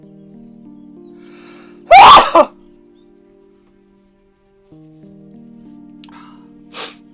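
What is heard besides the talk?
sneeze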